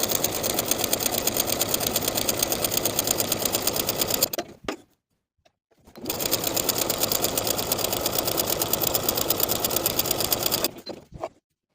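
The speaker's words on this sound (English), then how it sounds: "Using the longest stitch on my machine and about a 1/4 inch seam allowance, I'll sew from the top to the bottom of the sleeve panel on both sides" A sewing machine runs on its longest stitch, sewing gathering stitches along a sleeve panel for a ruched T-shirt, two long steady buzzing runs close by, separated by a brief pause.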